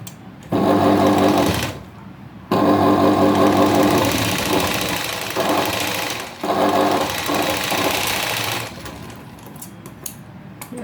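A sewing machine stitches along the edge of a blouse yoke in loud, close, rapid mechanical bursts, running in two long stretches separated by a short pause before slowing and stopping.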